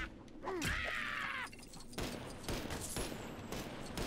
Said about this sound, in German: Ich schieß einfach mal hier rum.